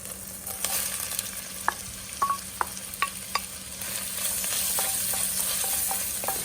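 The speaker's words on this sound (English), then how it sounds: "In go our onions." Onions frying in oil with caraway seeds for goulash give a bright, steady sizzle. A few sharp clicks and scrapes from stirring come through in the middle, then the hiss swells louder toward the end.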